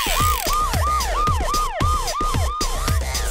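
A police car siren wails in a rapid, repeating up-and-down yelp, loud and close, about nine quick cycles with nothing else over it.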